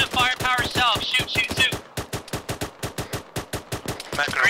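Rapid gunfire from Arma 3 infantry combat, sharp repeated shots in fast bursts, loud and close, with radio-style voices talking at the start and end.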